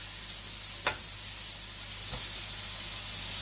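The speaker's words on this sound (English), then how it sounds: "So we'll just pop these in, and these will cook quite quickly." Homemade wontons fry in hot oil, giving a steady, fairly quiet sizzling hiss with a couple of brief splashes or clinks as they go in.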